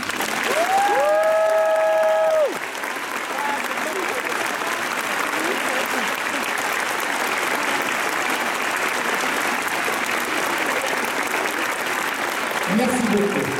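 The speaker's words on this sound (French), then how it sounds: "Pour Tom, nous vous demandons une minute d'applaudissement." Sustained applause from an audience paying tribute to the American photographer Tom Theobald, a steady even wash of clapping throughout. A few drawn-out voice-like tones rise briefly at the start.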